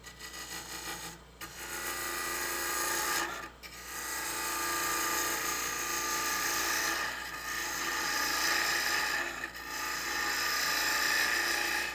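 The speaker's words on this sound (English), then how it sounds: "I'm going to have to use the scraper to bore my way to the bottom of the hole" Loud, steady rasping of a lathe scraper boring into a spinning wooden lidded box, close up, running continuously with a few brief pauses and no talking.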